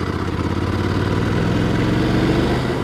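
A Ducati Scrambler 800 Icon motorcycle engine runs at a steady low rumble while riding, with loud continuous throb and wind noise, no distinct revs.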